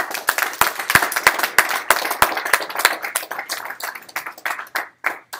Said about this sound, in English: Round of applause for Factual